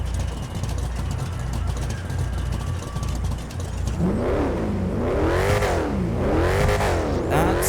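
The Frankenstagger hot rod pickup truck's engine in a video game rumbles at a steady, loud idle, then revs in three rising-and-falling surges.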